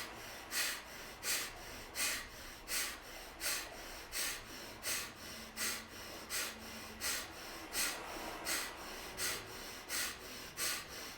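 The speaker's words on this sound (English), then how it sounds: "making fists, pressing the breath out through the nose, right, and let's keep going. Really pump the breath, right?" Rapid forceful exhales pushed through the nose in a breathing exercise, a steady rhythmic series of about sixteen sharp puffs, evenly spaced and fairly close, with no talking.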